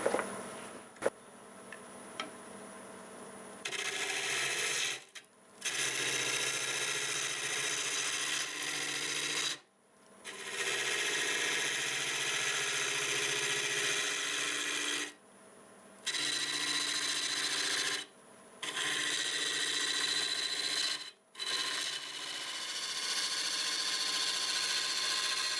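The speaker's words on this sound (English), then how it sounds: "See what kind of RPM we're running this morning. About 890, freshly sharpened 5/8 bowl gouge." A freshly sharpened 5/8-inch bowl gouge cutting maple burl on a wood lathe at about 890 RPM: steady, close scraping hiss in long passes with several short gaps where the tool lifts.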